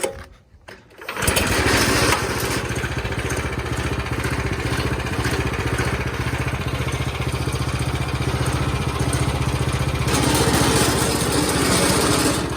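The engine of a Klipper go-kart catches after a short pull and then runs loud and steady at a high, buzzing idle, close by, with no one talking over it.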